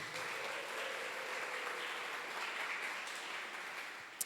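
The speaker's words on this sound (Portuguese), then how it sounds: "você pode aplaudir ao Senhor por isso" A church congregation applauds together in a continuous, even patter of clapping, soft and somewhat distant, holding steady from start to finish.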